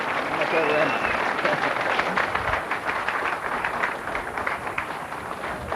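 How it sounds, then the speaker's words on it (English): Audience at a UFO and paranormal talk giving a round of applause, dense clapping swelling then holding steady, with a few voices mixed in. "please give him a great round of applause"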